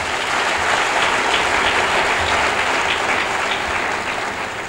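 Loud, sustained applause from a large audience at a 25th anniversary celebration, a dense continuous roar of clapping that holds steady throughout and eases slightly at the end, with no speech.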